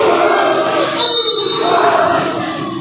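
Loud basketball gym crowd noise from a FEIA vs RNS game, with a player's father hyping up the stands, a sustained roar and cheering throughout, a brief buzzer-like tone in the middle, commentary voices over it.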